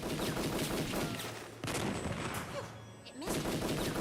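A cannon fired in the Return to Mysterious Island adventure game, heard as loud repeated gunfire-like blasts with a brief lull partway through, standing alone with no talk.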